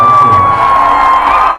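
A loud outdoor concert crowd in Geetanagar cheering and shouting together, a sustained roar with a high whooping tone that fades out at the end.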